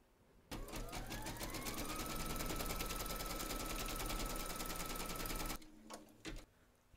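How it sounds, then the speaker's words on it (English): A home embroidery machine stitches a placement outline in purple thread on fabric in the hoop for an in-the-hoop teddy and unicorn bag. It makes a loud, steady, rapid mechanical chatter for about five seconds, then stops with a few soft clunks. "Pop your hoop into your machine and stitch round number 1"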